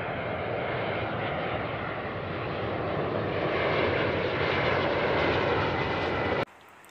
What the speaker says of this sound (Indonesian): Wow, ini pesawat terbang.